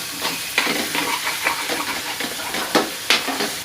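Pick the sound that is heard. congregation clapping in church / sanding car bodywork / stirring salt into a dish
stirring salt into a dish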